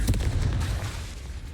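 A Confringo fire spell detonates in the wizarding game Hogwarts Legacy, one sharp, close boom that quickly fades into a low rumbling tail.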